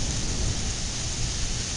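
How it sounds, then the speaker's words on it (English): Steady heavy rain pouring down during a thunderstorm with a deep low rumble underneath, a dense wash of sound with no voices. "we got thunderstorms out here"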